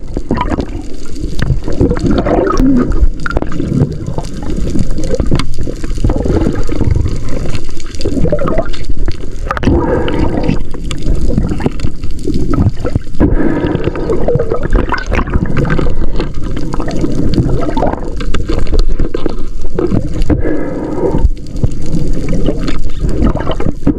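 Continuous loud underwater rushing and bubbling water during a spearfishing dive, churning steadily for the whole stretch with no voices.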